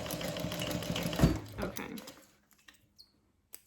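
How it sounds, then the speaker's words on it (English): A sewing machine runs a quick burst of short stitches on a small piece of a double zip bag, then stops, followed by a few faint clicks; a voice briefly speaks near the end. "I'm using a small stitch length just because it's such a small"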